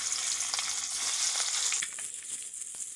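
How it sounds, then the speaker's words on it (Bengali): Fish fries in oil left from frying pumpkin, a bright continuous sizzle close by that eases to a quieter crackle partway through, with occasional soft pops. "ওই তেলেই মাছগুলো ভেজে নেব।"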